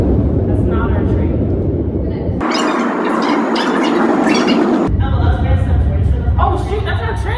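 Subway train pulling into a New York City station, a loud broadband rumble and rush that swells for a few seconds over continuous platform noise, with people talking nearby throughout.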